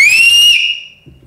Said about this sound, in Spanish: ¿Tú sabes chiflar? Yo sí, así.